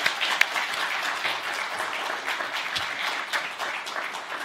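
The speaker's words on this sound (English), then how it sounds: "another round of applause for all our panelists today" A panel-discussion audience at a Federal Reserve community event applauds its panelists, giving a continuous, fairly loud wash of clapping from many hands. It holds steady for the whole stretch.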